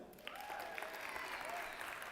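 An audience applauds in a church service, brief, even clapping at moderate distance, fairly quiet, with faint voices beneath.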